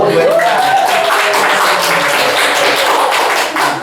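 Audience clapping at an Indonesian panel discussion on animal protein and stunting, a broad dense patter of hands filling the room steadily for several seconds, with faint voices mixed underneath.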